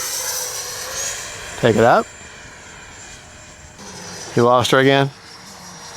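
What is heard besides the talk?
Freewing 80mm T-33 Shooting Star RC jet flying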